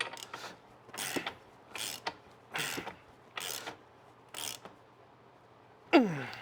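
A large socket wrench ratchets a bolt in, giving six or seven short rasping bursts of clicking at a steady pace, close and fairly loud, followed by a sharper metallic squeak at the end.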